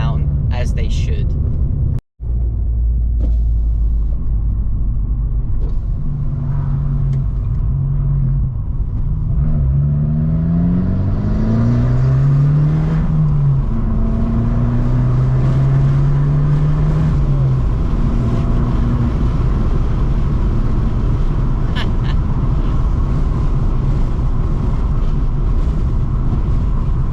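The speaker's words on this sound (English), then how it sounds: "This car puts other cars to shame with its exhaust note." An Abarth 595 Competizione's engine and exhaust rise and fall through revs, with a loud rumbling drone and pitch sweeps as it accelerates, a brief dropout early on, and talking over parts.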